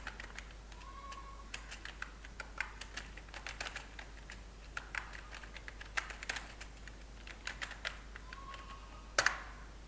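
Someone types on a computer keyboard in quick irregular bursts of soft clicks, close and faint, with short pauses and a sharper clack near the end.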